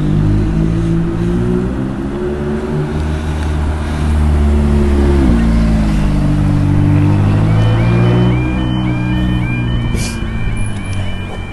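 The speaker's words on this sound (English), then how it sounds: "Got a posh car coming past here now." A posh car drives past near Brockenhurst station in the New Forest, its engine note swelling loudly as it nears and then easing away, with steady traffic rumble behind.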